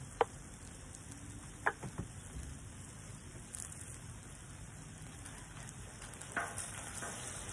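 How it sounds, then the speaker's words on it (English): A glaze sizzles softly on steak in a pan, a faint steady crackle broken by a few sharp pops and clicks, close and quiet with no voices. "We'll fold it in, and you'll hear it start to sizzle."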